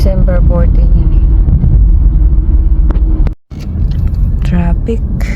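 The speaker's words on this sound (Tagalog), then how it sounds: "Traffic." Steady downtown San Diego car traffic rumbles throughout with wind buffeting, voices talking over it, and a brief dropout partway through.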